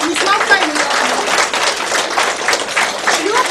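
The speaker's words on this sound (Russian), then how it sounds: "Подружные дружные аплодисменты" Applause from an audience at a first-day-of-school ceremony as an award badge is presented, steady dense clapping that fills the whole stretch, fairly loud and close, with voices murmuring underneath.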